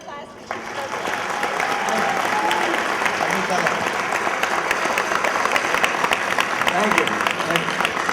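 An audience at the Chi Chi Conference gives applause for Chief, a dense, steady clapping that starts abruptly and holds at full strength for several seconds, close and loud.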